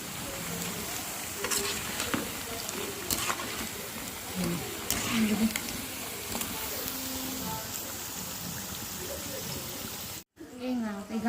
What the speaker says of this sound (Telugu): అయిగోండి మన పకోడీలు అయితే ఫ్రై అవుతామండి